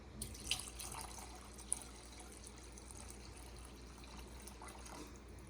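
Water poured into biryani gravy in a home kitchen, a quiet continuous liquid rush and trickle heard close up, steady throughout with a couple of small splashes.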